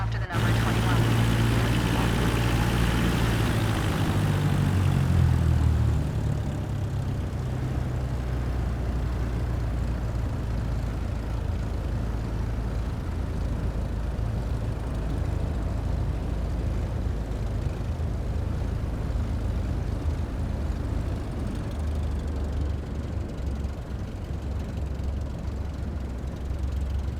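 Aircraft engine idling steadily while the plane taxis in Flight Simulator 2024, a continuous low drone with a brief rise near the start, heard under a voice giving instructions.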